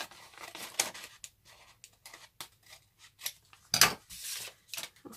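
Scissors cutting away excess paper while making a journal, a series of close, crisp snips in irregular bursts with short quiet gaps between them.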